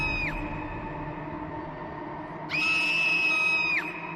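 A mother-in-law in an animated horror story screams while sitting on her bed: a short shrill cry, then a longer sustained high-pitched wail over a low background hum.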